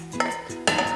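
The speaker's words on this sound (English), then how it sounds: "I just give this a really good stir." A wooden spatula stirs sticky caramel popcorn in a pot, with a couple of soft scraping strokes and a light clink, close and brief.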